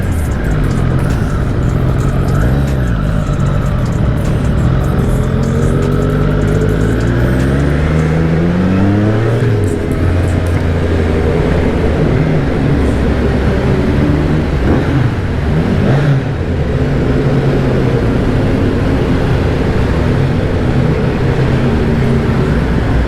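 Superbike engines, including a Honda Fireblade and a Ducati V2, rev and roar at a large motorcycle meetup, with a steady loud drone and rising revs heard close up over crowd ambience.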